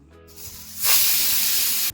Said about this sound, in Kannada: ಕುಕ್ಕರ್ ಕೂಗಿ ಪ್ರೆಷರ್ ಇಳಿದಿದೆ